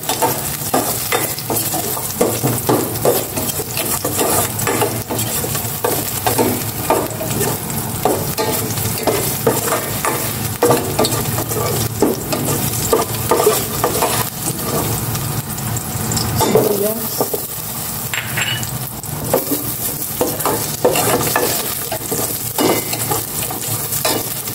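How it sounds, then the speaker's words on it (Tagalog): Garlic sautés in cooking oil with a loud, continuous sizzle, close to the pan, while a utensil scrapes and stirs and now and then clinks against the cookware. "Lagyan ko na ng cooking oil. Gisa ko na itong bawang."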